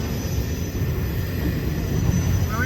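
A CSX intermodal freight train passing a road crossing on the Fitzgerald subdivision in Waycross, Georgia, giving a steady, loud low rumble of rolling cars that holds without letup, with no voices over it.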